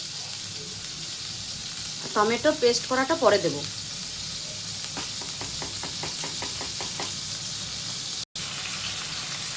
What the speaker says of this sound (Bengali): আদা রসুন আর পেঁয়াজ যে পেস্ট করেছি ওইটা এখন একটু ভালো করে হালকা ভাজা হয়ে যাবে